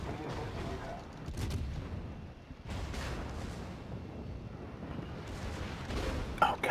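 Tank cannon fire in a Stalingrad-set war video game, with booming shots and rumbling battle noise, loud and continuous, and a sharp blast near the end.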